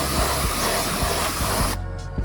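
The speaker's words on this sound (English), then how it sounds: "now we gonna spray them out. Get that brake dust off." A loud, steady hiss of cleaner spraying close up onto luxury car rims to remove brake dust for nearly two seconds, then cutting off abruptly, with faint low knocks underneath and no talking.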